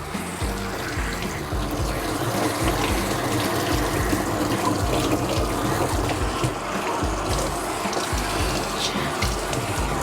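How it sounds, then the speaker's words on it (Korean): Running water pours steadily as conditioner is rinsed from a Bichon Frise's coat during a bath, a loud continuous splashing stream close by with no talking. "린스 역시 깨끗하게 맑은 물이 나올 때까지 헹궈주세요"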